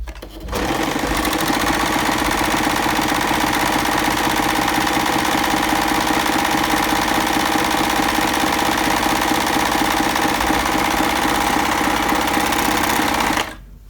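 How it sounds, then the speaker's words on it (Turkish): A Bernette b44 overlock machine running a wide three-thread overlock stitch, a loud, continuous, rapid mechanical whir with a fine fast rhythm, heard close up and alone for nearly the whole clip before cutting off. "Şimdi geniş overlock'un önce normalini yapıyoruz."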